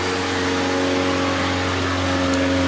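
A Citroën rally car on studded winter tyres during a Monte Carlo special stage, its mid-pitched engine roaring steadily and loudly for the whole stretch with no talk over it.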